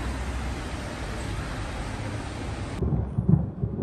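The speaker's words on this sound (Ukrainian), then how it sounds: "у нас вже заходить на дощ, гримить" Low, steady thunder rumbles through a wash of broadband storm noise, which drops off near the end, leaving a deep rumble and faint knocks.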